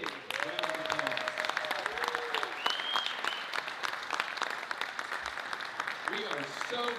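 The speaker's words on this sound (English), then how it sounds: "Let's give Mary a big round of applause." Sustained applause from a Rotary club gathering honoring Mary, dense clapping throughout with a few voices and whoops rising over it.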